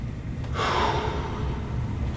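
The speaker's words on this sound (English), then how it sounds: "You're going to breathe." A single audible breath, a sharp inhale and slow release, taken during a standing hip and hamstring stretch, close and fairly quiet against a low background hum.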